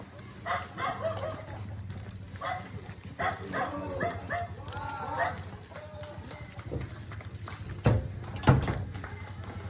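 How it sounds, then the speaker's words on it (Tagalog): Dog barking at a new house, with several short bark bursts and yips in the second half. Talking and some shouting run beneath and between the barks, along with a few knocks. "Paano kaya paghahabol sa'yo ng aso?"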